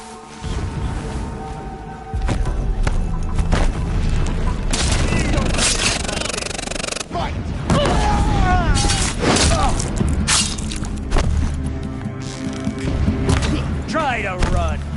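Explosions and weapon fire in the video game Horizon Zero Dawn, repeated booms and crashes layered with music and a voice speaking, loud and continuous throughout.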